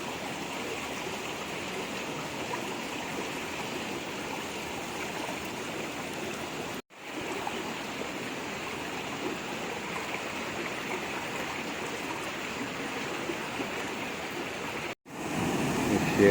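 Steady rushing water of a river stream at Mayang Falls, a continuous broadband roar holding close and constant, broken by two brief dropouts, with no talk over it.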